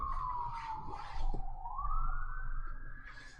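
Emergency siren wailing outside a window, a steady mid-pitched tone that dips then slowly rises and swells louder, continuous throughout without speech.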